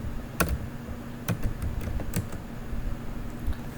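Fingers typing a command on a computer keyboard, a few separate key clicks spaced out over several seconds, faint and close, with no talking.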